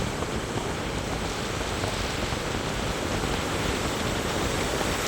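Sea waves surging onto the shore at Dwarka, a dense continuous roar of churning surf and spray, steady and fairly distant, with no voices.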